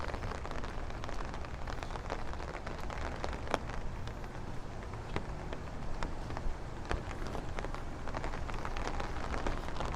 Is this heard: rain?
yes